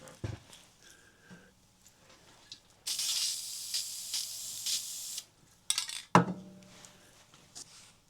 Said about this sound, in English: I'm not using a whole lot of spray paint.